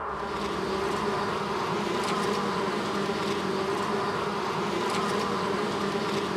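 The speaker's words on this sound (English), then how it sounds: "One locust isn't frightening. But what about millions of them?" A swarm of millions of locusts in flight, heard as a dense, steady insect buzz and whirr that fills the air continuously, fairly close and unbroken, with no voices.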